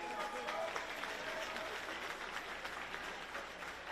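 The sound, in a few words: audience applause for a young man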